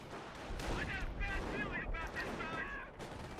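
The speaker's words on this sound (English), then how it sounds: "First bit of off-map artillery, I hear, against the sniper" Off-map artillery and scattered gunfire rumble through a Company of Heroes 1 multiplayer battle, a dense layer of distant explosions and shots under steady commentator talk.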